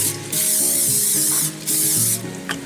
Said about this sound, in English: I'm going to spray this 9x13 pan.